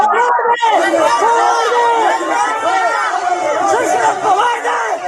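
Crowd gathering around police officers during an arrest of an unmasked woman, a loud close mass of overlapping agitated voices and shouts forming dense babble throughout.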